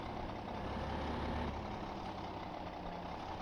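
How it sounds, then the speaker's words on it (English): An idling diesel tractor engine in Farming Simulator 2015 hums as a steady, unchanging low drone that holds a constant pitch and never revs up. "the diesel motor at idle never revs up at all"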